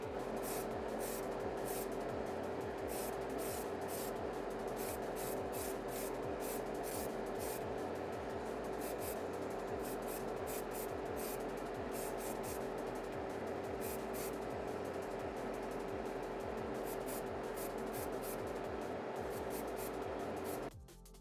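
A spray can lays clearcoat onto a premium Gunpla model kit in a long continuous hiss, close and loud, running nearly unbroken for about twenty seconds before cutting off.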